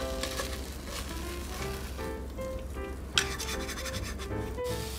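Egg mixture made with white dashi sizzles steadily in a household frying pan for a rolled omelette, a close, even frying hiss with light scraping and a brief clack partway through.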